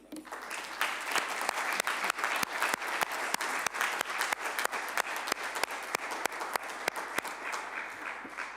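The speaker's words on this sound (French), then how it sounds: "Et on peut t'applaudir." Attendees at a French municipal council meeting in February 2021 applaud a retiring colleague. The clapping is sustained and fairly close, with sharp individual claps standing out from the crowd and a slight fade near the end.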